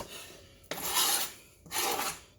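Two rasping scrapes against a large roughly 10x14 casserole dish while cooking stuffed chicken in cream sauce, each a broad, close stroke lasting under a second with a short pause between, no voices.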